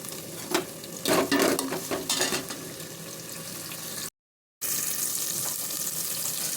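Tomato and green chilli fry in a pan with bursts of stirring and scraping early on, then a steady hiss of sizzling. The sound cuts out briefly and then resumes.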